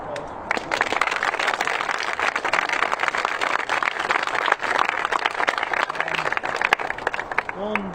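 Crowd applause at a championship final, dense sustained clapping from a large crowd throughout, loud and steady, with a voice talking briefly near the end.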